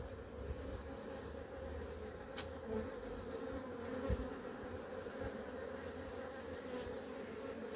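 A low, continuous buzzing of many honey bees humming close by around a queen bee at the hive entrance, steady and soft, with a few faint knocks and no voices.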